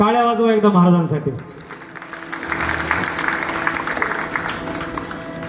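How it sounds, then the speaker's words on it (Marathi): At a Shiv Janmotsav kirtan in Kagal, a voice is cut off by a burst of steady audience clapping for the Maharaj. "टाळ्या वाजवा एकदा महाराजांसाठी"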